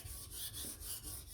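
A knife blade being thinned just behind the edge on a sharpening stone, a steady back-and-forth rasping of strokes, close and fairly quiet, with no voices.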